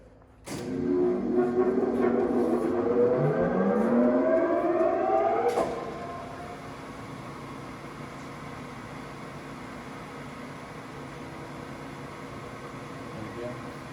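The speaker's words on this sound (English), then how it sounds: "I could shut the oil off, just run the wheel head by itself, and listen to that alone by itself." The wheel head of an AMC K2000-U automatic crankshaft grinder runs on its own with the oil shut off: a loud rising mechanical whine for about five seconds, then a sharp drop to a steady, quieter hum.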